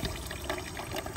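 Water pours steadily from a public drinking fountain in Zurich, a continuous close splashing stream with no break, moderately loud and without talk.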